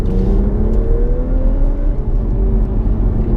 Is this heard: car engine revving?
yes